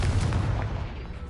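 A Confringo blasting curse detonates in a game, one short low boom with a brief rumbling tail that fades within about a second, heard alone.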